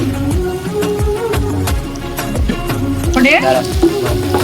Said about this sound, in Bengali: ধনিয়া পাতা দিয়ে নেড়ে দিচ্ছি।